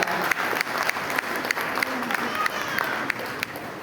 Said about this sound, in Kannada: ಆ ಪಾಲಕರು ಸಹ ಜೋರಾಗಿ ಚಪ್ಪಾಳೆ ಮೂಲಕ ಧನ್ಯವಾದ ತಿಳಿಸೋಣ